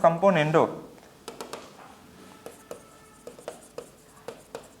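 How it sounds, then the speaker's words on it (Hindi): After a brief burst of a voice, chalk or marker strokes tap and scrape on a board as a maths teacher writes out an algebra rule; the short strokes come irregularly and alone. "मैं फिर से लिख दे रहा हूं"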